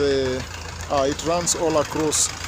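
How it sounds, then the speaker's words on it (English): A low tractor engine idles and rumbles steadily in the background of a farming town while someone speaks over it nearby. "The noise you can hear to the background is that of a tractor"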